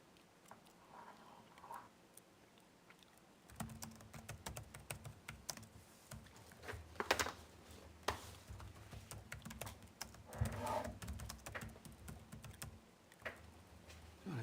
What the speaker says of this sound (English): God, I can't type with this keyboard.